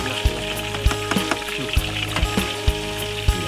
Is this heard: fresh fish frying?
yes